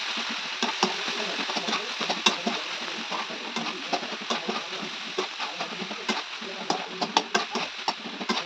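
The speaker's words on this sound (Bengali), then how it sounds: "বাঁধাকপির তরকারির জন্য তেলে ফোড়ন দিয়ে দিয়েছি, আর সাথে দিয়ে দিলাম বাঁধাকপিটা" Shredded cabbage goes into hot oil tempered with spices and fries with a soft, steady sizzle, broken by frequent scraping and stirring taps of a spatula, close by and fairly quiet.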